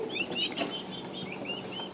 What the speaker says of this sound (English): Baby turkeys.